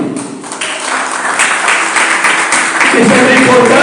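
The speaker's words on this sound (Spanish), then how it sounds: "Denle un aplauso al Señor." Church congregation applauding together, a steady wash of many hands clapping over several seconds with voices mixed in beneath.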